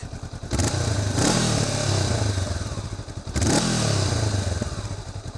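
Honda CB500X motorcycle engine running at close range, a steady rumbling drone with two louder swells as the throttle is blipped.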